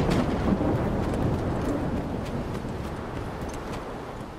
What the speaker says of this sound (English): Scary storm. It's a scary,